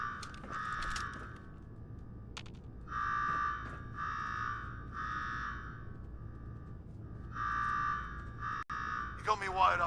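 In Fallout 4, during an attack at Slocum Joe's, an electronic alarm sounds in steady repeated buzzing bursts with brief gaps, with clicks and mechanical noises between and a short squeal at the end.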